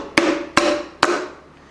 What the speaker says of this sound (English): let's get the wooden part of our hammer